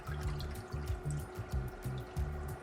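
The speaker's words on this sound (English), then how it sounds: "This is just the water splashing." Water splashes and trickles steadily in a reef aquarium sump, with a rhythmic pulsing low gurgle and a faint constant hum underneath.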